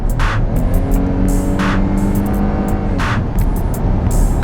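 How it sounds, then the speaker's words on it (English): A 2016 Ford F-150 pickup's engine accelerates under turbo boost from highway cruising speed, a steady close, loud cabin drone whose engine note climbs in pitch as the truck pulls harder. "You can hear it getting in the boost."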